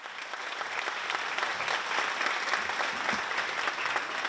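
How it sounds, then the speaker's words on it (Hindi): An audience at an award ceremony in an auditorium claps steadily, with dense, even applause throughout and no break. "तालियों के साथ"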